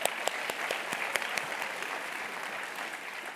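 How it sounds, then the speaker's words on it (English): An audience at a business talk gives a sustained round of applause, a fairly distant, even wash of many hands clapping with no voices over it. "Let's give a round of applause."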